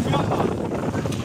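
Wind gusting steadily across the microphone at Paradise Beach on Giftun Island near Hurghada, Egypt, a close, continuous rushing roar with no break.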